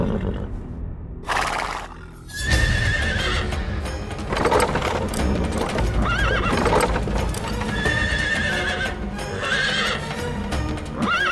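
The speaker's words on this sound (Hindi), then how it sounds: "घोड़ा आगे ही नहीं बढ़ रहा है।" A horse neighs and whinnies several times while hooves clip-clop steadily beside a halted chariot in a mythological drama, the sounds loud and close over a busy, dense background.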